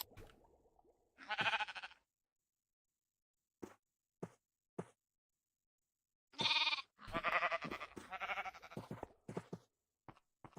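Sheep in the Minecraft video game bleat in short clear bursts, one near the start and a cluster of several overlapping bleats later, separated by silence and a few faint clicks.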